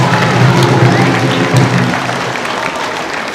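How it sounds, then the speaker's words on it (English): Audience applause fills an opening ceremony for the 51st Frontier Games, a dense, steady wash of clapping from a large crowd that stays loud before tapering slightly toward the end. "let's give everybody a big round of applause"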